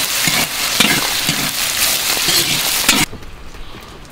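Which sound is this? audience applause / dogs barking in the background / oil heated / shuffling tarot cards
oil heated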